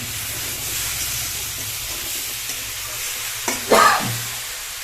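Bottle gourd and lentil bori curry stir-fried in a pan makes a steady sizzle with stirring scrapes, then a brief louder clatter of a utensil near the end.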